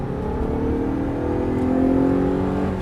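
An Audi R8 V8 accelerating hard on a race track, its engine note rising steadily and loud, close by and continuous with no voices.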